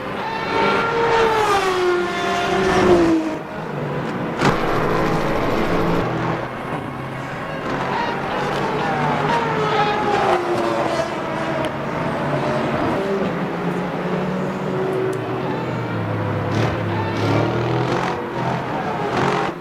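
GT3 race cars in a sim racing game, engines droning and revving with shifting pitch, loud and steady, several cars overlapping with occasional sharp changes as gears shift.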